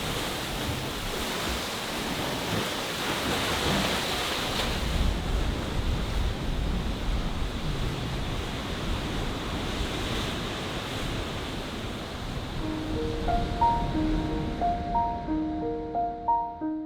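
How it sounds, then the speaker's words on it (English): Loud waves crash on the Acadia coast under strong wind on an overcast day, a continuous roar of surf with gusts buffeting the microphone, and faint musical tones near the end. "The windy, overcast weather and the loud crashing of the waves gave the landscape a perilous feeling."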